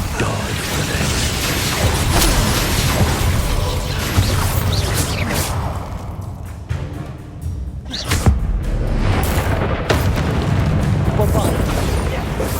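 Spell explosions in Hogwarts Legacy during a combat scene. Loud booms and crashes land over continuous battle noise, and voices speak throughout.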